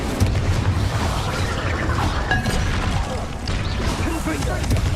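Fiery blast of the Incendio spell in Hogwarts Legacy, a loud, dense roar with impact crashes filling the whole stretch and a voice faintly mixed in.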